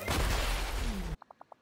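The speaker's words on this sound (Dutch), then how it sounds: "Oh, het was een explosie in de carousel." A loud, broadband explosion blast at the carousel in the Disney Dreamlight Valley video game on Nintendo Switch rumbles for about a second, then cuts to five quick, quiet tonal game chimes.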